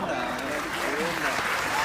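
An audience claps for a teacher at a school event, steady dense applause with voices audible underneath.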